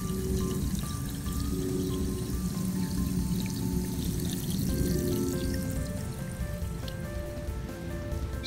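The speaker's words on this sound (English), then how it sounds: "You can see it leaking out of the nut there," Water sprays and trickles steadily from a leaking compression coupling nut on a main water line, a continuous close splashing patter that holds at even loudness throughout, with no talking.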